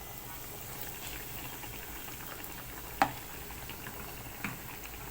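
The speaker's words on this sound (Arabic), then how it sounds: "كده يا حبايبي هنقلي بقى الكوردون بلو، هنقليه بقى في حلة صغيرة كده عشان الزيت يكون غني" Cordon bleu deep frying in a small pot of very hot oil, a steady quiet sizzle and crackle throughout with one sharp pop near the middle and a smaller one later, no talking.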